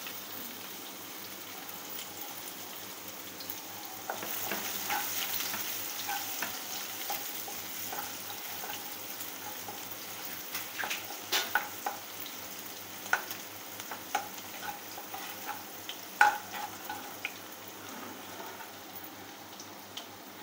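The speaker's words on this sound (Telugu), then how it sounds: "వేగిన తర్వాత ఇవి ఉల్లిపాయలు కూడా వేసుకోవాలి" Onions fried and stirred in a pan while cooking restaurant-style Chicken 555, with a steady close sizzle that has occasional sharper crackles and spatula scrapes, and no voices.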